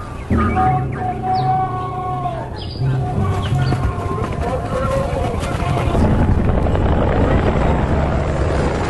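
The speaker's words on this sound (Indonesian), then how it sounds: "Tiba-tiba, 2 helikopter kepolisian muncul dan hendak menangkap Pablo." Two police helicopters arrive in a dramatic chase scene, their steady rotor drone filling the whole clip loud and near, with a brief musical or tonal element and busy layered noise at the start.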